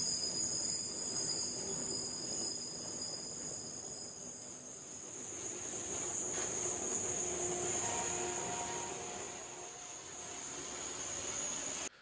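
A rail grinding train works along the track with a steady metallic grinding roar and high, sustained squealing tones that persist throughout, loud and continuous.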